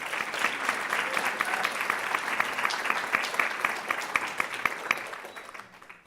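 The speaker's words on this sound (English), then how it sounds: "Kelly another round of applause to start." Lecture-hall audience gives a sustained round of applause for a speaker on rising seas, many hands clapping in a dense, even wash that tapers off near the end.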